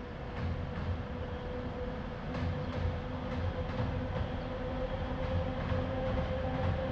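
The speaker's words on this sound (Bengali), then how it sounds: "এই দেখো ট্রেন যাচ্ছে।" A train rolls across a railway bridge near Sevoke by Siliguri, a steady low rumble with rhythmic wheel clatter heard from a moderate distance and sustained throughout, without talking.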